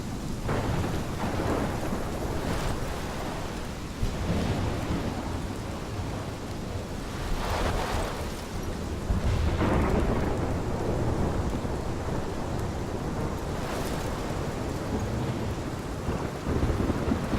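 Thunderstorm in the game Life is Strange: steady heavy rain with repeated rolling thunder claps building and fading across the whole stretch, loud and enveloping, no voices.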